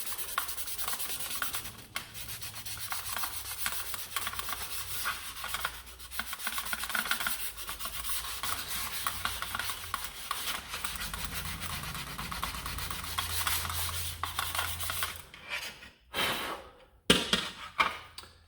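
Hand sanding paint off a part, a steady scratchy rubbing of abrasive strokes that runs close and continuous, with a few brief pauses near the end.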